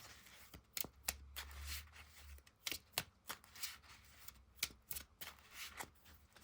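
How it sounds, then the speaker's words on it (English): A deck of Yu-Gi-Oh cards is shuffled by hand up close, giving a quiet, rhythmic series of crisp riffling snaps and sharp clicks, with no talking. "I'm going to go ahead and shuffle up here and get this next one going."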